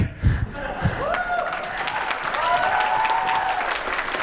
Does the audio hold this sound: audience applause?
yes